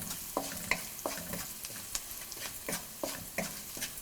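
Onions with salt being stirred in a frying pan, a soft sizzle under a regular series of spatula scrapes and taps, close and fairly quiet, with no talking.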